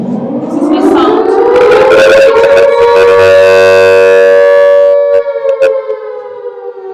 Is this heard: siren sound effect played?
yes